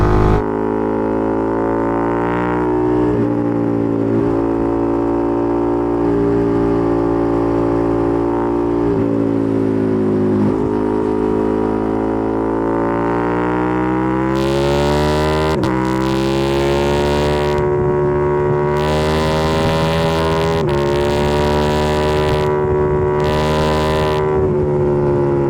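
A supercar of over 800 horsepower accelerates hard, its engine note climbing through long rising sweeps with brief gear-shift breaks, loud and continuous with sharp bursts near the end.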